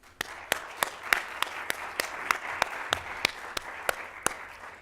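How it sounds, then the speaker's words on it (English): Applause from a crowd at the NASDAQ closing bell ceremony, with sharp, evenly spaced claps standing out in a regular rhythm over a softer wash of clapping. "So please join me as we start things off with a round of applause."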